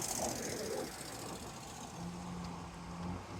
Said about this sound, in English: There we go, cars stopping, cars going.